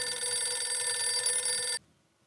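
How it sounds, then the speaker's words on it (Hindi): A telephone bell rings with one loud, continuous burst and then cuts off abruptly into near silence. "बबीता जी बार बार मुझे फोन कर रहे हैं अयर भाई के साथ बात करने के लिए।"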